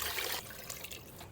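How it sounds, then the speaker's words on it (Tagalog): Water pours briskly into a pressure cooker holding cut oxtail for kare-kare, a short splashing rush that fades into lighter trickles and drips, close up and with no voices. "Lagay na tayo ng tubig."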